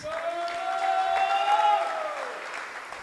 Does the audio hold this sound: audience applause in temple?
yes